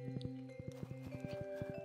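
Horse hooves clip-clopping at a steady trot while riding across a farm in the video game Stardew Valley, a brisk rhythmic patter of game hoofbeats over light background music, close and clear.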